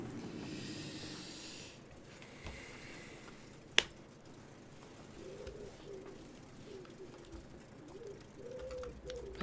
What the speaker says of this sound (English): Bloody hell, that pigeon's loud.